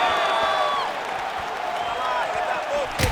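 Arena crowd in the EA UFC 5 video game during a women's bout, a steady roar of cheering and murmuring that swells briefly as strikes land, with a sharp burst at the end.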